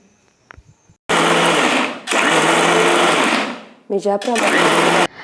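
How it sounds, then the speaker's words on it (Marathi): A kitchen mixer grinder grinding wheat, pulsed in loud bursts: two long whirring runs, then a short stuttering pulse and a final burst, all close and loud with no talk over it. "मिक्सर चालू बंद केल्यामुळे या गव्हामधील चीक तेवढा बाहेर पडेल"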